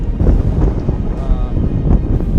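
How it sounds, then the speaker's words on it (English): Strong, cold gusts on a Montana deer hunt buffet the microphone, producing a loud, rumbling roar that swells and dips throughout. "Give you an idea how windy it is."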